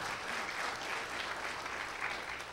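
A Baptist church congregation claps together in praise during a Sunday morning service, a fairly soft but steady blend of many hands heard from a distance, with a faint low hum underneath.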